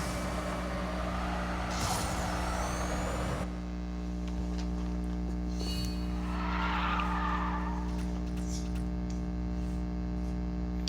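A steady, droning race car engine hum in Need for Speed No Limits runs throughout, with tire squeal and skidding bursts early on and a brief rising whine later.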